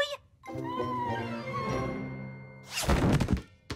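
A long, drawn-out kitten meow with a wavering pitch from a French-language Polly Pocket cartoon, followed by a brief burst of rustling or bumping noise near the microphone.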